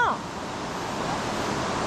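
A waterfall at a river fish sanctuary gives off a steady, dense rushing hiss, close and continuous across the short stretch, with a faint high chirp right at the start.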